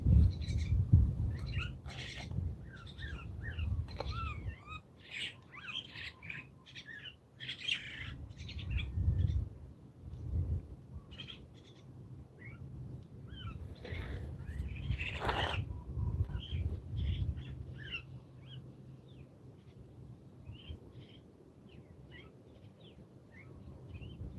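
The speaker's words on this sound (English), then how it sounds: "listening to the birds up in the trees talking to us now" Birds chirp and call continuously, several voices overlapping at a moderate distance, against a soft low outdoor rumble.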